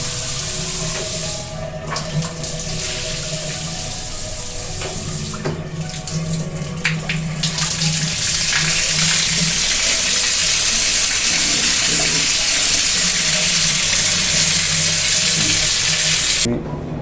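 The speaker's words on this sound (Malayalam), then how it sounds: "ഇതാണ് നമ്മുടെ ഷവറിൽ കിട്ടുന്ന ഫ്ലോ" Steady rushing water pours from a shower head fed by a Grundfos Twin Booster pressure pump, without a break, a constant hiss with faint clanks underneath, no voices.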